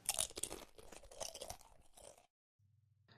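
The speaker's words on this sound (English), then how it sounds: "like when you're chewing on corn nuts." Crunchy corn nuts chewed close up, a dense run of loud, sharp crunches for about two seconds that then stops abruptly, followed by a faint low hum.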